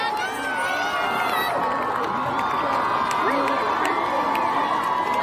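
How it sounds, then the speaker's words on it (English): A large outdoor crowd at an air show featuring military aircraft, cheering and shouting continuously with whoops and some clapping, loud and sustained with voices mixed throughout. "Give them a huge round of applause for undertaking this mission."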